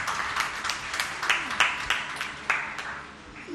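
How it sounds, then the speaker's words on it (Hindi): An audience at a religious discourse session claps in scattered bursts that rise, then thin out toward the end, moderately distant with a roomy echo. "एक बार जोरदार ताली बजा दीजिए।"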